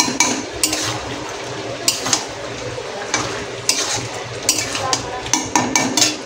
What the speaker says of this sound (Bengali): দিয়ে দিলাম আমরা মশলাটা, দিয়ে আবারও একটুখানি কষিয়ে নিতে হবে।